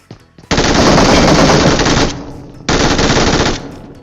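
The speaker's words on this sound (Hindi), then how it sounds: "तो फिर हल्की सी गोली चलने की भी आवाज आती है।" Two long bursts of rapid automatic gunfire in PUBG Mobile (BGMI), loud and close, separated by a brief pause.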